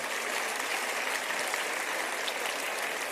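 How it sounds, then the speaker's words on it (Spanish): Applause from an audience at a talk rolls on as an even, continuous hiss of many clapping hands, heard at a moderate distance and fairly soft throughout, with no speech over it. "No sé exactamente qué aplauden"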